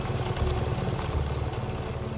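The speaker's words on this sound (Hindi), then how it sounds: "बाइक स्टार्ट की" A motorbike engine runs with a steady, rhythmic mid-pitched chugging, close and continuous, with no voices.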